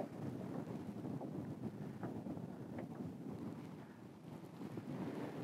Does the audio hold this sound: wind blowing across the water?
yes